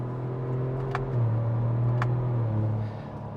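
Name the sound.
Chevrolet Colorado ZR2 truck accelerating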